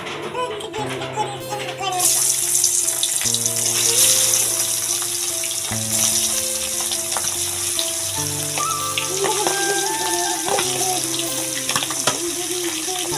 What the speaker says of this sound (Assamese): এতিয়া মাছখিনি আপোনাৰ ফ্ৰাই কৰি লওঁ।